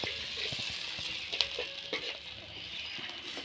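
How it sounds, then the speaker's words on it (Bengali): A spice paste of ground cumin, ginger, garlic and chili fries in a pan with browned onions and potatoes for a fish curry, giving a steady close sizzle broken by light stirring clicks. "ভালো করে কষে নেব মশলাটা"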